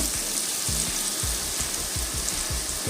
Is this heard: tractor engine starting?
no